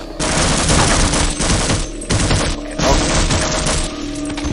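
Rapid automatic gunfire from HECU soldiers in the game Half-Life, a dense, loud fusillade of bursts with brief pauses and one quick spoken word in the middle.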